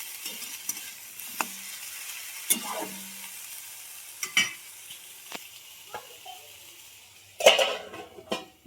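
Eggplant frying in a pan with nigella seeds and garlic makes a soft, continuous sizzle beneath irregular scraping stirs and metallic clinks of a utensil against the pan.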